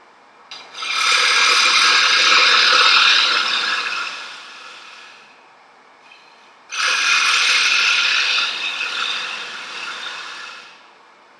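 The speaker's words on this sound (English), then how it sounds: "Speed up the lathe a little bit." A hole saw hollows a wooden acorn spinning on a wood lathe. It makes two loud, gritty, rasping bursts of cutting, a few seconds each, separated by a quieter pause.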